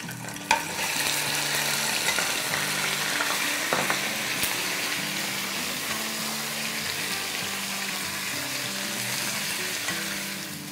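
Two pounds of goat meat fry in a pot with whole spices and bay leaves, a steady loud sizzle with stirring scrapes throughout and no talk.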